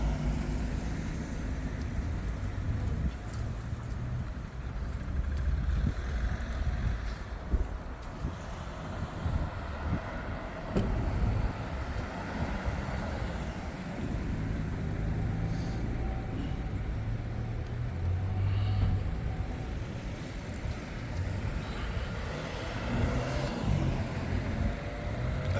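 Cars roll in and out of a busy place, a steady wash of engine and tyre noise with passing swells, heard without talk.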